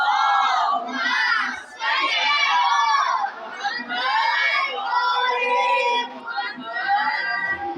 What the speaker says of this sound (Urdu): ایک بلند تر صلوات کریں۔